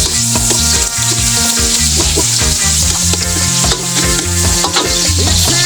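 Chopped onions sizzle loudly in hot oil in a pan while cooking ginataang sitaw kalabasa with crab: a dense, continuous frying hiss with occasional stirring clicks over steady background music.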